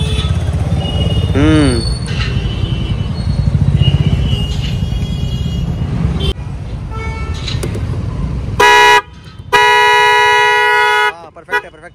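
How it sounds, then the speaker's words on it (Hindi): Two vehicle horns blare together in loud, steady blasts: one short honk, a brief pause, then a longer sustained blast, following a stretch of engine and road noise. "हॉर्न तो सही है यार, हॉर्न में कोई दिक्कत नहीं है, बहुत सही आवाज़ आ रही है"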